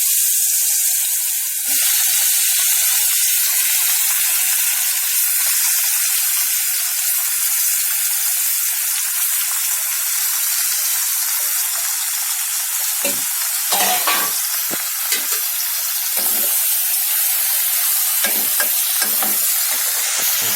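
Chopped raw mango fries in hot oil with a loud, continuous sizzle, and occasional stirring scrapes toward the end, while making mango pachadi.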